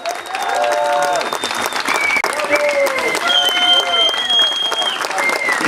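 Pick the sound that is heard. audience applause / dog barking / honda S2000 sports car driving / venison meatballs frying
audience applause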